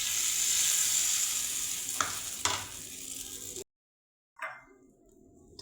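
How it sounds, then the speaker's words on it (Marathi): Mustard seeds, cumin and curry leaves sizzle in hot oil for a chutney tempering, a bright steady crackle with two sharp pops, then a sudden cut to silence before a softer sizzle returns. "तेल आपलं गरम झालेलं आहे. मोहरी, जिरे, कढीपत्ता."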